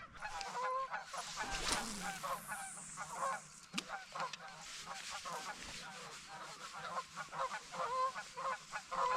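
Geese honk loudly and repeatedly while fighting, a harsh, overlapping chorus with scuffling and flapping, near and persistent throughout.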